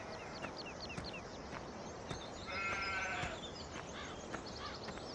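Several short sheep bleats in Farming Simulator 17 rise over a steady, noisy background, with one longer bleat in the middle and a few clipped, game-like animal calls around it.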